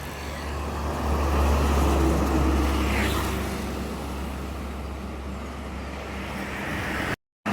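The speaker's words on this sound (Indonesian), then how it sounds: "Ini dari arah utara juga ada truk box ini teman-teman. Wah, truk box tronton ini." A heavy box tronton truck rolls past on a road near Babadan, Ponorogo, a loud sustained low engine rumble and tyre roar swelling and easing away over steady traffic noise, with no talking.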